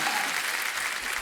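A studio audience claps in a brief, dense burst of applause, steady and fairly soft, with no voices over it.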